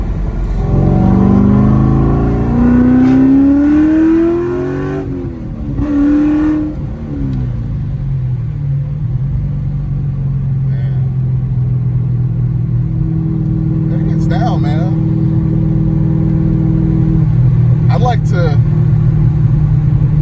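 An LS3-swapped C5 Corvette heard from inside on a ride-along, the engine revving up loudly through rising pitch sweeps before settling into a deep steady drone, with people talking in the cabin.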